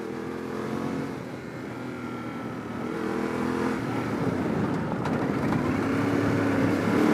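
A Yamaha T700 motorcycle engine revs steadily in the mid range, a continuous close drone that swells slightly louder partway through, with no talk over it.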